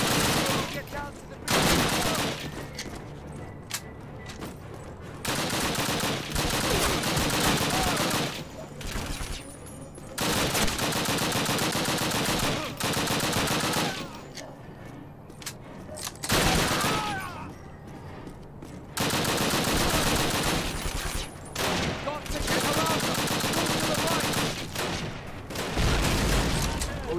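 Heavy World War II gunfire in Call of Duty: United Offensive's British campaign, with dense fusillades and machine-gun bursts running loud and nearly continuous for almost half a minute and only a few short lulls, while players talk over the battle.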